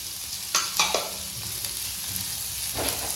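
Chopped onion sizzles gently in a hot pan, a soft steady frying hiss broken by a few sharp scrapes and clatters of a spoon stirring, with no talk.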